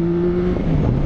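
A Yamaha Tracer 9 motorcycle engine accelerating, its tone rising then dropping as it shifts, heard close with steady wind and road noise and no talking.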